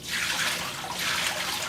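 Plain water pours in a steady, close, continuous splash into an ice cream machine, with no talking over it.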